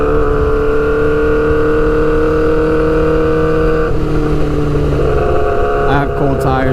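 Suzuki GSX-R600 sport bike engine running loud and steady in a continuous drone, then breaking into a rough, stuttering change in pitch near the end as a gear shift is missed.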